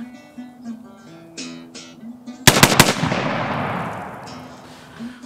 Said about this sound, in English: the single trigger allows for a shotgun that can shoot extremely fast,